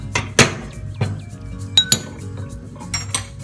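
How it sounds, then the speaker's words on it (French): A small pan set on a gas stove, several close metallic clinks and knocks of cookware and utensils spread irregularly over a few seconds, with no talk. "vous mettez votre petit poêle sur le gaz"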